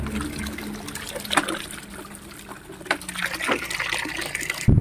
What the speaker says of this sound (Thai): จากสายยางของเราที่เราใช้มานานแล้วนะคะ วันนี้ก็ลองใส่น้ำบาดาลใหม่นะคะ